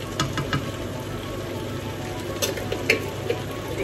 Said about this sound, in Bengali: মশলাটাকে একটু ভালো করে নাড়িয়ে নেবো